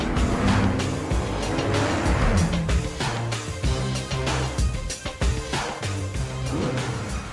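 A Toyota GR Supra under final test driving, engine revving and shifting rapidly with repeated tire squeals and skids, loud and close, the pitch climbing and dropping across several hard bursts.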